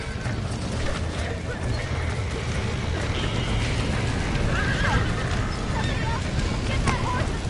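A horse neighs and whinnies amid continuous Red Dead Redemption game ambience, with hoof clip-clops and muffled voices underneath.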